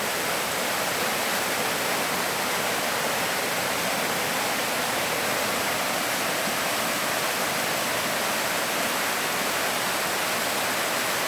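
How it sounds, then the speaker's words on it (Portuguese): Cachoeira do Paquetá, a waterfall in the southern part of Ilhabela on the São Paulo coast, roars as a steady, dense wash of falling water that holds evenly loud throughout with no voices. "Litoral, essa cachoeira já fica localizada"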